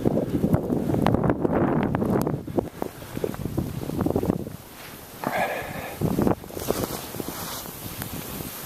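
Strong blizzard wind gusts buffet the microphone in heavy, uneven roaring bursts over deep snow and drifts, with brief lulls between the gusts.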